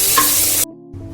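Onions and chopped tomatoes frying in a pan hiss in a loud, dense sizzle that cuts off abruptly after about half a second, leaving only a faint low hum.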